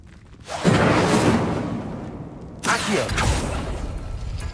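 In a wizarding video game the fire spell Incendio is cast: two loud, broad whooshing bursts of flame, each swelling suddenly and roaring for a moment before fading, the second following about two seconds after the first.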